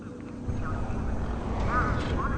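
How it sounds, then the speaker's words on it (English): Video game birds in Beyond a Steel Sky give a few hoarse, quacking calls over a low rumbling ambient drone, with a voice speaking faintly underneath. "Those birds weren't going to let me anywhere near the back of the truck."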